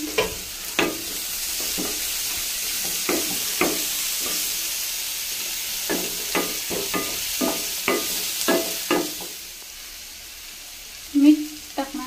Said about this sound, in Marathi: सेम पॅन मध्ये लसूण, आलं टाकणार आहोत तेलावर। कांदा टाकूया।